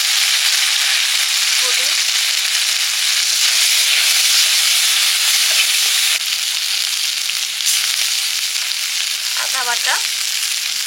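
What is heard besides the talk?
panch phoron spices and spice paste frying in hot oil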